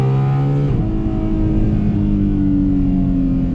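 A Ferrari F12 engine with a new exhaust revs loudly, the pitch dropping as the revs fall away into a steady, deep exhaust drone.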